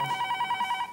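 A telephone rings indoors late at night: a rapid electronic trill pulsing in quick regular bursts, fairly clear and close, with no voices over it.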